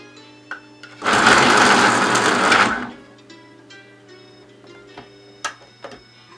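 An electric pencil sharpener grinds a coloured pencil in one loud, steady burst of about two seconds, sounding close. Faint ticks and small taps from the drawing desk follow.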